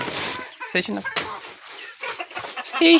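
Ducks and turkeys on a farm make short squawks and clucking calls in overlapping bursts. A person is talking nearby as the birds call.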